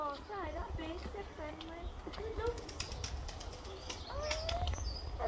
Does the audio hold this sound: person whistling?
no